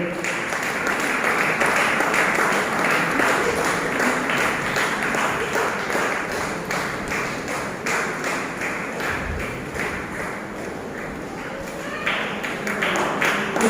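A church congregation at a novena applauds to honour a priest being presented with a shawl: steady, dense clapping from many people that carries on throughout, with a few louder taps mixed in.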